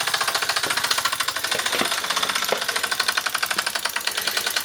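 A restored Mamod SA1 toy steam car engine runs close by with a fast, steady mechanical chuffing and rattling rhythm, loud and continuous, with a few faint knocks on top.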